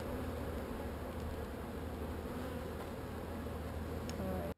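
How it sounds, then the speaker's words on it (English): Honeybees at an opened backyard hive with frames being pulled, making a dense continuous buzz that stays steady and close throughout, with no voices. "it turns out that we had a lot of bees still in there, a lot of bees"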